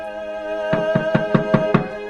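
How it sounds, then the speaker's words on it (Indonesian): Six evenly spaced knocks on a wooden door, firm and close, sounding over a steady low background hum. "Akhirnya lelaki setengah tua itu pun mulai mengetuk daun pintu."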